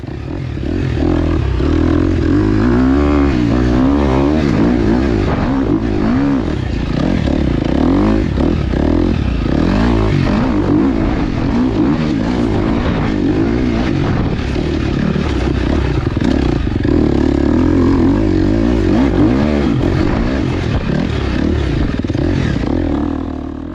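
A dirt bike on studded snow tires revs hard as it accelerates out of a corner on a sand track with icy patches, a loud, continuous, close engine roar that rises and holds without pause.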